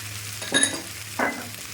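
Potato pieces frying in a pan for a Bengali rui fish curry, with turmeric paste, Kashmiri chilli and red chilli powder stirred in. A steady close sizzle breaks into two louder scraping stirs, without speech.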